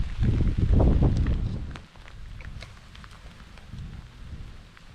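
Steady rain patters and rushes outdoors at a beach, with a heavy burst early on that eases to a softer, continuous hiss.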